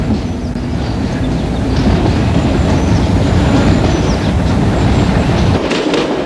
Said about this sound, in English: a prototype train of 1956 stock is seen leaving Acton Town.